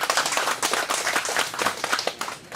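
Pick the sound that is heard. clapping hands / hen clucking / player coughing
clapping hands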